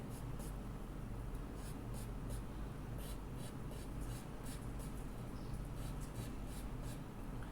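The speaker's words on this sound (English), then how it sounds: "You see how efficient is the blending stump to create" A blending stump rubs steadily across paper while shading a drawing of pet fur, giving a continuous soft scratchy hiss with faint rhythmic strokes that is close and quiet throughout.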